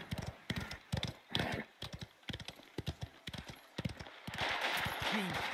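Clip-clop hooves of a horse ridden in the video game Mafia: The Old Country, with rapid, rhythmic, steady hoof strikes, close and distinct, followed by a swell of broadband noise near the end.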